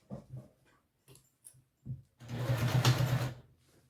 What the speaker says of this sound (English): Let's go ahead and sew this down.